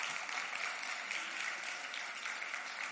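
A church congregation applauds, dense sustained clapping filling about three seconds at a steady level with no voices on top.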